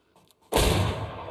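Gunfire in a zombie shooting video game: after a quiet, faint opening, a sudden loud blast erupts and holds as a dense, booming burst of shots for the rest of the moment.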